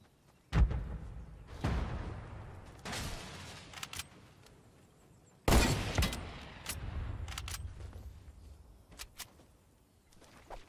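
Gunfire in a Fortnite match. Sharp, loud shots arrive in separate bursts, each trailing off into echoing rattles and clatter, with quiet gaps between the volleys.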